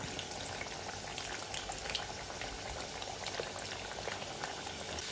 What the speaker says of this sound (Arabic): عم حمي الزيت ليحمى ومنقلي البطاطا